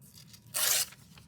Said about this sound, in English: let's see if we can tear this.